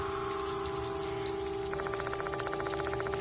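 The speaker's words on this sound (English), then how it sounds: "Guess that explains the sound of running water." Running water gushes from slender rubber hoses spewing filthy water in the horror game Death Mark II, a steady wash of flow that takes on a pulsing, rhythmic texture partway through, with no voices.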